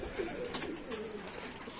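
Faint, low pigeon cooing murmurs in a quiet space, soft and continuous over a short stretch.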